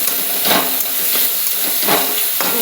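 Green chillies sizzle in hot oil that already holds cumin, mustard seeds and garlic, a steady close hiss with a few brief louder bursts as they land in the pan, with no voices.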